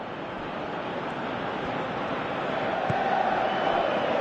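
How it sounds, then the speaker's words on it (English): Steady crowd roar from a football video game, a broad wash of stadium noise holding at an even level throughout with a slight swell near the end, no voices standing out. "you can hear how the crowd are reacting to this too"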